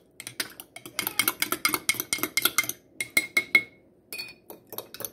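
A Super Reds drink mix being stirred in a glass, with a rapid series of bright clinks and scrapes of a utensil against the sides, close and clear with no talking.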